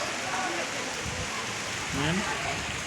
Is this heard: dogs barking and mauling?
no